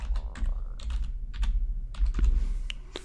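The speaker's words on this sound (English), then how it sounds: "So type in the password." A computer keyboard clatters as a password is typed while installing a Postgres database, with a steady run of close, crisp key clicks and a few sharper taps, and no talking.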